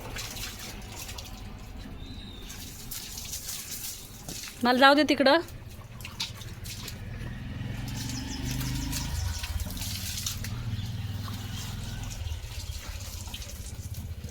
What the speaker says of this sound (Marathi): झाडांना दे पाणी चल